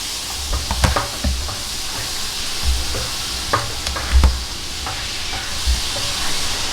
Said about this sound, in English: So we put the butter in, and so now we're gonna make cheese sauce